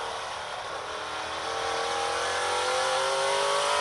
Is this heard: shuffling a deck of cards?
no